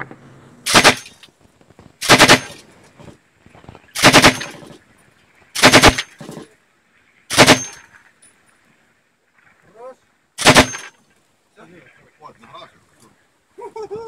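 Short bursts of automatic gunfire during street fighting in Shyrokyne, about six sharp, loud volleys spaced a second or two apart, with shouting voices in the quieter gaps between them.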